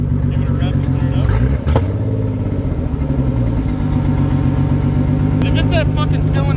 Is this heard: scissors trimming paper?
no